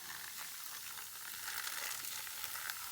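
Steady high-pitched fizzing and crackling of baking soda reacting in boiling water, continuous and fairly close, swelling slightly louder partway through with no voices.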